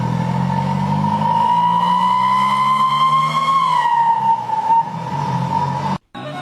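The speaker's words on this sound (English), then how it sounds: "As the bus accelerates, it emits a sharp, high-pitched sound, a signature detail recognized instantly by fans." A bus sounds a sharp, high-pitched whistle from its exhaust as it accelerates, a loud sustained tone over engine rumble that bends slightly in pitch before cutting off abruptly near the end.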